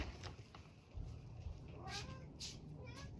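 A domestic cat gives two or three short, faint meows close by, with soft rustling and low background noise around them.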